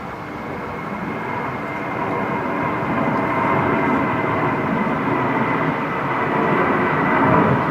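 A heavy Singapore Airlines airliner landing on runway 19 right at Brisbane Airport in strong winds, a loud, steady low engine roar that swells slightly as it passes, with no talk.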